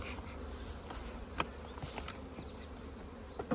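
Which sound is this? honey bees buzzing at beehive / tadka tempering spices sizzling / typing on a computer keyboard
honey bees buzzing at beehive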